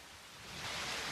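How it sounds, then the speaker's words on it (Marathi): Heavy monsoon rain pours down on the Devkund waterfall trek, a dense, steady rushing hiss that swells louder over about a second, with no voices. "खतरनाक पाऊस पडाला बघा"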